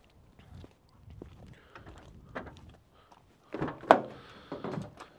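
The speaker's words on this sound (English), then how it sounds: "So if you open the door, you can then open the fuel flap like so." A 2019 Ford Transit Custom 2.0 EcoBlue van door is opened and then its fuel flap is popped open: a series of soft close clunks and latch clicks, with a sharper snap midway and a few rattles after.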